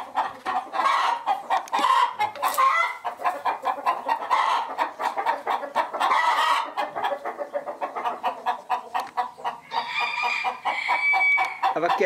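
A brooding hen on a rural smallholding clucks in soft, repeated bursts over a steady outdoor background, with other fowl faintly audible now and then; the clucking stays close and fairly continuous throughout.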